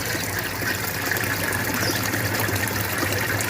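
Water from a pond filter pump in a recirculating aquaculture system gushes in a steady, continuous rush, close and moderately loud, with no voices.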